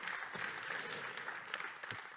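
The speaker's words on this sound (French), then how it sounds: "encore un torrent d'applaudissements pour tous ces valeureux candidats" Faint, distant round of applause for competition candidates and winners at a data visualization hackathon event, steady clapping heard from afar at low level for about two seconds.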